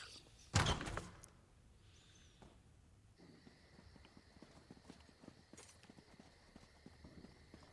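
A horse-drawn wagon in The Elder Scrolls Online gives a steady, fairly close clip-clop of hooves that runs on after a single loud thump at the start.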